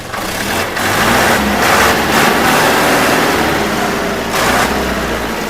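A Sonalika DI 55 tractor engine revs loudly up close, its roar swelling and easing in several surges over a heavy low rumble.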